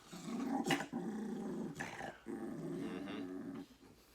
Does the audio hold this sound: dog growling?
yes